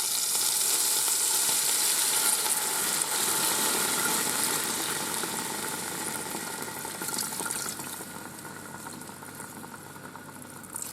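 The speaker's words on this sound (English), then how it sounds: "let's pour in our liquid" Liquid poured into a Ninja Foodi pressure cooker holding a chuck roast, a steady rushing, splashing hiss for several seconds that slowly fades as the pour eases off.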